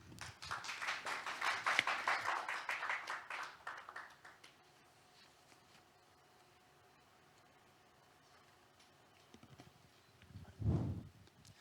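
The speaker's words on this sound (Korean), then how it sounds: "박수로 맞아주시기 바랍니다" Applause at a special lecture of a world Korean-writers' conference greets the guest speaker, a burst of clapping that fades out after about four seconds, followed by quiet room tone and a brief thump near the end.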